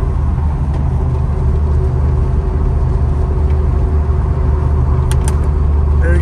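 Car rolling past a parked 2000 Jeep Wrangler TJ 2.5 SE on a road at dusk, a steady close rumble and whir of engine and tires holding throughout, with faint clicks near the end.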